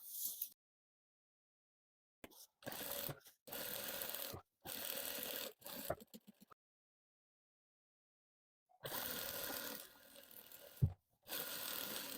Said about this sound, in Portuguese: Aqui só vou passar uma costura para cortar essas pontinhas para fazer o acabamento.